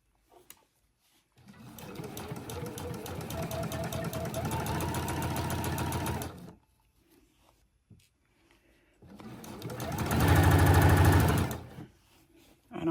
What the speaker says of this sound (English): we're just going to sew all the way around that opening, that little tube opening,